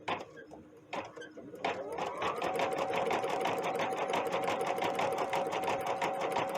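A Stellaire embroidery machine couching, starting with a few separate clicks before the needle settles into a fast, steady mechanical chatter that runs close and continuous to the end.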